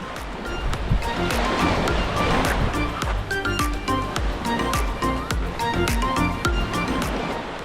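Gentle ocean waves wash steadily onto an island shore in Indonesia, a continuous dense surf noise with a light breeze, loud and close, with no pauses throughout.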